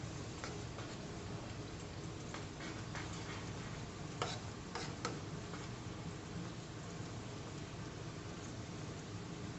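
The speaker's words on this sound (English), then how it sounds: "Stir again." A spoon stirring stew in a pot, a quiet soft scraping and bubbling texture with a few light clinks, steady and close, no talking.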